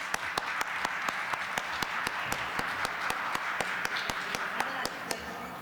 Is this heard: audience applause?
yes